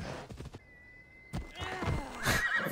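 A horse in the Assassin's Creed Odyssey video game gives a short, close, fairly loud neigh with a rising whinny, preceded by a few thumps and followed by quiet background movement.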